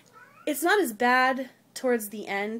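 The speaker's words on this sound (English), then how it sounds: "So if you hear any meowing, that's him." A young, unneutered male cat meows loudly and repeatedly nearby, drawn-out calls mixed with a person talking.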